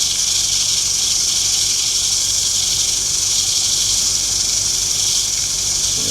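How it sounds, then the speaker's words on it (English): Heavier sandpaper rubbing a wooden bowl, a steady, even hiss that holds close and constant without pause or any voice. "Heavier. Heavier sandpaper."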